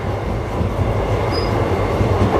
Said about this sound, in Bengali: ট্রেন আমাদের ঢুকছে আজিমগঞ্জ